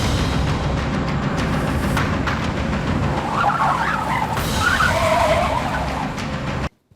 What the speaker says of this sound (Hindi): अचानक से एक कार ने मेरी बाइक को ओवरटेक किया